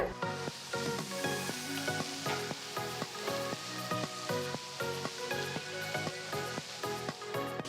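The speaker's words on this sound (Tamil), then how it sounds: "வெங்காயம் ரெண்டு மூணு நிமிஷம் வதங்கட்டும்" Steady, crackling sizzle of onions sautéing in a hot pan, close and continuous with no voices.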